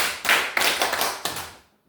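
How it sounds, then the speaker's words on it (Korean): Children clap together at a church children's sermon, a few bursts of rhythmic group claps close by that fade out toward the end. "자, 신나는 박수로, 멋쟁이 박수로"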